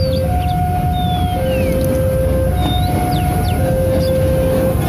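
A steady two-tone toy train siren wails on and off, alternating pitch, over a loud continuous mechanical rumble, with faint chirping sounds above.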